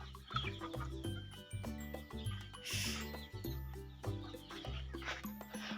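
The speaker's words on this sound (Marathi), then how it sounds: "हा तोच कोंबडा आहे जो त्यांनी आता सोडून दिला होता कारण त्याची चोच वाकडी आहे" A rooster with a crooked beak clucks quietly in a farm cattle shed during rainy weather, soft repeated clucks heard faintly beneath a steady rhythmic hum.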